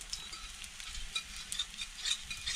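A pancake sizzles in a pan over a campfire outdoors in Lemmenjoki, a steady close crackling fry with soft stirring-like scrapes, alone without talk.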